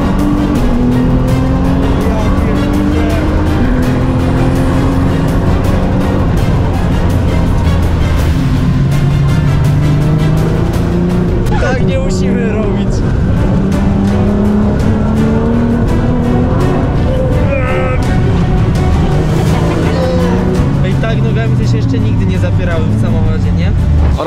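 A car driven hard, engine rising and falling in long revving sweeps with tire squeal and rushing noise, very loud and close as if from inside, while people talk over it throughout.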